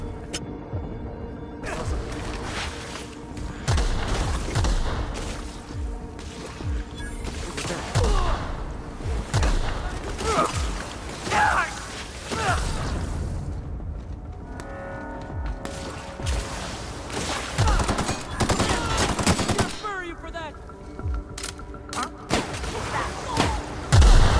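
Gunfire and explosions in The Outer Worlds come as irregular bursts of shots with rumbling booms and crashes, dense at times and sparse at others, while a voice talks intermittently over the combat.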